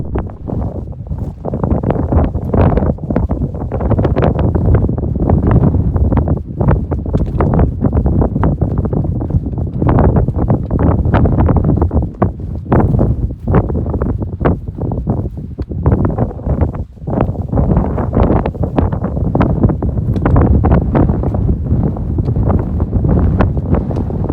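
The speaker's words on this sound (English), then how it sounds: "it's kind of windy" Strong wind buffets the microphone on a mountain backpacking trip near Fizzle and Looking Glass Lakes in Montana, a loud, continuous roar with gusty surges and rumbling low-end noise throughout, no voices.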